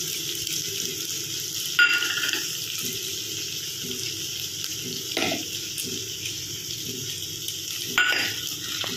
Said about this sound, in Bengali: এইবার আমি যে গুঁড়ো মশলাটা জল দিয়ে গুলে রেখেছি সেটা দিয়ে দেবো।